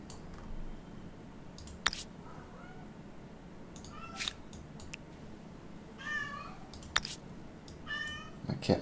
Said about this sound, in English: My cat has something he'd like to say.